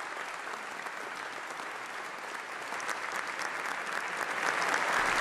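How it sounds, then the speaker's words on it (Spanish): Sustained applause from a large standing audience, dense steady clapping that swells slightly louder toward the end, with no voices standing out. "fue ovacionado con una extensa ola de aplausos que el público brindó de pie"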